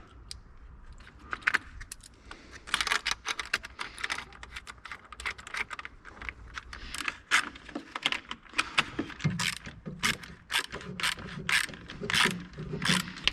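Screws being tightened during repair work on a 2019 BMW X3 G01, heard as irregular close ratcheting clicks and clatter in quick bursts, with no talking.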